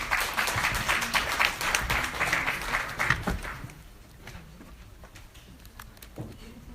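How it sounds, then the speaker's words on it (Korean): Audience applause greets the fourth and final lecture speaker, the CEO of P2P lender Lendit, as he takes the stage. Steady clapping holds for about three seconds, then thins to sparse claps in a quieter hall. "큰 박수로 환영해 주시기 바랍니다."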